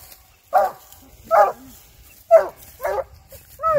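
A coonhound treeing on a mulberry gives five loud, evenly spaced barks, with a raccoon up in an oak growing beside it, outdoors at night in the woods.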